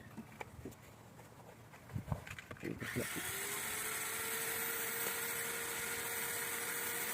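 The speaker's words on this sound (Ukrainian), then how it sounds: "І зараз просверлимо." A few knocks and taps give way to a power drill starting up and whirring steadily at a constant pitch until the end, drilling holes in aerated concrete block.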